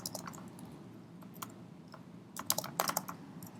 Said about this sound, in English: I could just type in here.